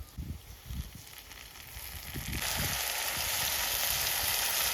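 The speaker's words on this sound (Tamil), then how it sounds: "இது நல்லா வதங்கிட்டு தக்காளி எல்லாம் வெந்துடுச்சு நல்லா" Chopped tomatoes sauté in an oily pan for tomato rice, a soft close sizzle that swells into a steady, brighter frying hiss halfway through, with a few low thumps of stirring early on.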